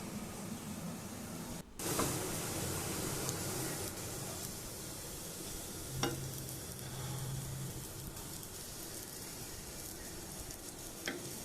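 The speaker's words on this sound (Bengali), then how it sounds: "চাল দিয়ে খুব ভালো করে নেড়ে চেড়ে ভেজে নেব।" Rice stirred and fried in a pan for Basanti pulao with raisins, a steady close sizzle with scraping stirs, one brief pause near the start.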